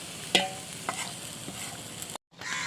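A spatula stirs and scrapes a thick palm-fruit batter in a hot wok, with steady sizzling and a few sharp clicks against the metal before a brief pause.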